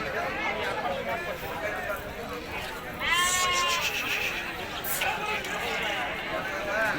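Sheep and lambs bleat at a busy Tuesday-morning sheep and goat market in Harihara, with one clear nearby bleat standing out over crowd babble and voices.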